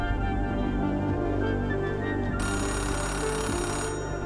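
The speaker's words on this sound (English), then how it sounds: "Payphone ringing in the wild?" Payphone ringing outdoors in the Oxenfree II: Lost Signals video game, a continuous bright electronic ring over a dense, loud ambient bed, with a sharp change in tone partway through.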